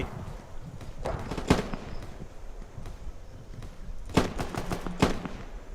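Gunfire in the Roblox war game The Eastern War: scattered single shots and short bursts, some sharp and close, others distant, popping irregularly through a murky battlefield background.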